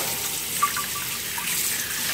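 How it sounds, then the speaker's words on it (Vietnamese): Clean tap water runs steadily into a basin while fish is rinsed in a kitchen, a constant close hiss and patter with no voices. "xả nước sạch vào."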